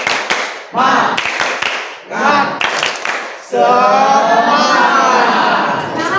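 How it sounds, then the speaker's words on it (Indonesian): Schoolchildren in a civics classroom perform a rhythmic group clapping chant, bursts of claps and voices separated by short pauses, ending in sustained loud cheering voices. "Tepuk semangat"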